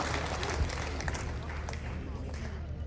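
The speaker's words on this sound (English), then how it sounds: "Can we give a round of applause again?" Audience at a presidential tour event in the Lango sub-region claps in a steady, moderately loud wash, with scattered voices and crowd murmur mixed into the applause throughout.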